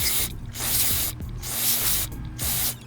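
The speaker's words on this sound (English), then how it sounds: "we're gonna spray at the sensor and all the inner parts here" Aerosol cleaner sprayed liberally onto the MAF sensor and inner parts of a third-generation Lexus GS, three loud close hissing bursts separated by brief pauses.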